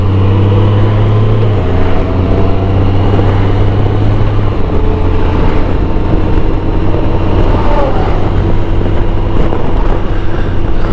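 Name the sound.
2018 Honda GoldWing motorcycle accelerating, automatic transmission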